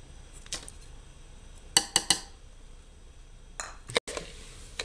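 A spoon clinks and scrapes against a metal pot while sugar is stirred into maida halwa, with a few sharp knocks in short clusters and quiet gaps between them.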